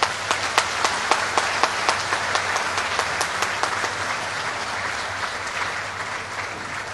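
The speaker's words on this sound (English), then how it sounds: "Let's give a big applause for them." A large audience at a Social Business Day event gives big, sustained applause, a dense and even roar of clapping with a few crisp claps near the front, slowly easing off toward the end.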